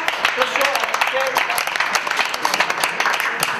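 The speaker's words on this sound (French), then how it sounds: "On peut applaudir Clara." An audience applauds a participant at an interactive theatre forum on Alzheimer's, a steady patter of many hands at moderate distance, with voices talking over it.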